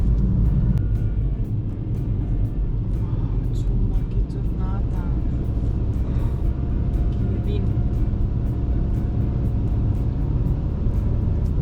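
A car drives along a mountain road in the Dolomites near Cortina, Italy, its steady engine and road rumble heard from inside the cabin under continuous talking.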